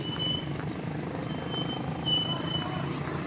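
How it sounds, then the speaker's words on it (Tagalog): Heavy traffic on Andaya Highway with trucks and buses passing on a one-way stretch: a continuous rumbling engine drone with repeated high beeping tones, moderately loud and close. "May traffic po dito sa Andaya Highway."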